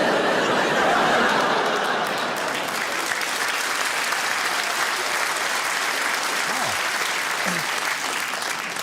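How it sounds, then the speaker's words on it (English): A stand-up comedy audience applauds steadily and loudly throughout, with scattered chuckles mixed into the clapping. "A round of applause for a Fritzl joke."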